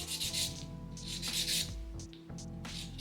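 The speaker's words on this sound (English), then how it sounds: "These little wooden files here are perfect for this. So I'm just gonna sharpen up this edge here." A small wooden nail file is rubbed in quick back-and-forth strokes against the edge of a polygel nail, making a soft, scratchy rasping up close over a steady low hum.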